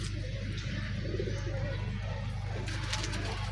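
Domestic flying pigeons, settled back at their loft after a flight, coo softly and repeatedly beneath a constant hum of steady background noise, with no one speaking.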